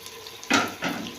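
Tomato paste poured into meat frying in a pan for a hotel-style curry, giving a sudden burst of sizzling that fades, then a second shorter sizzle with a stirring scrape.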